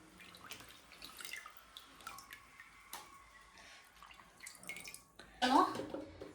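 Cream (malai) being washed by hand in water while making ghee: close splashing and sloshing with drips and a louder burst of water near the end, under someone talking.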